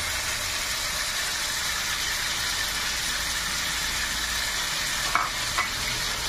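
Ingredients with salt and sugar are mixed for nasi lemak, a faint steady stirring and sizzling hiss running throughout, with a couple of brief utensil clinks near the end.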